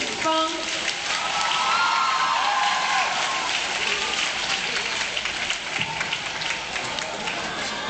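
An audience claps loudly and steadily to welcome a Twenty-Four Festive Drums performance, a dense sustained wash of applause with a few faint cheers and a voice over it.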